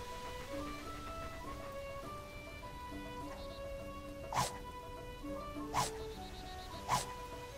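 A small dog in the video game Fable II barks three times at steady intervals, moderately close, over a gentle melodic game music bed and soft rain-like ambience.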